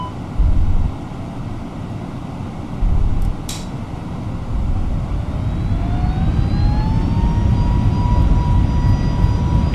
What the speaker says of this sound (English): Flex takeoff. Power set.